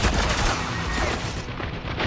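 Dense gunfire from the video game Spec Ops: The Line, a loud continuous rattle of rapid shots with booming impacts, filling the whole moment without a break.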